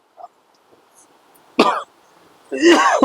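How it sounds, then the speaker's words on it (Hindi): A person coughing, a small throat sound followed by two loud harsh coughs, close to the listener, the second burst longer and raspier. "ये खांसी बहुत परेशान कर रहा है"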